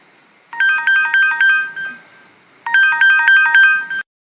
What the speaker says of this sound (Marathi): मी यांना फोन लावून घेते.